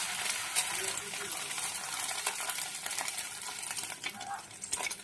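Hand-shaped patties dipped in egg fry in a wok, giving a busy, moderately quiet sizzle with scraping stirs and occasional spattering pops throughout.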